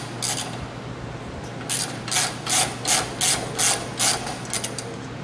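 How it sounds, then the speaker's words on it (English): Nut being spun off by hand or with a ratchet during work on a VW Doka electric conversion, giving a series of about eight short metallic clicking bursts in a steady rhythm, close and moderately loud over a low hum. "Take this nut off."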